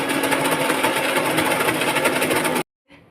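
A kitchen mixer grinder whirs loudly and steadily as it grinds small cut pieces of fufu ingredients, then cuts off abruptly, leaving a brief quiet rattle.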